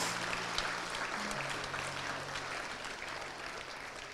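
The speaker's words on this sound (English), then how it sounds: "And another round of applause for Tanner Cade Van Leuven, magna cum laude," Steady audience applause at the OHSU university convocation ceremony, a broad, even wash of clapping heard at a distance over a low hum.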